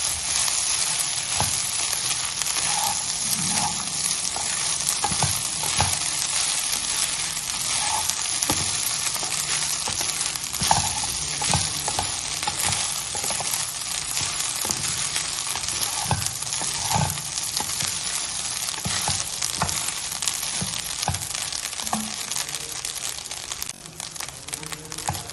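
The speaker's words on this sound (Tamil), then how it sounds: "இப்போ நம்ம நல்லா கிளறி விட்டுட்டு நம்ம அடுப்பை ஆஃப் பண்ணிடலாம்" Coconut rice stirred in a pan on the stove, a steady loud sizzle with repeated scraping and clinking strokes of the spoon running throughout.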